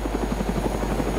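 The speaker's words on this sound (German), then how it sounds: "Da oben ist der Hubschrauber." Steady rotor thump of a helicopter in the video game DayZ, a fast rhythmic chopping with a constant low drone, moderately loud and unbroken throughout.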